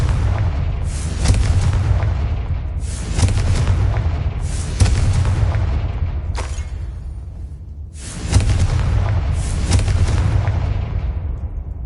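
Repeated Confringo fire-spell blasts in the Hogwarts Legacy video game, five loud booming bursts every two seconds or so, each with a whooshing decay, over a constant low rumble and no talk.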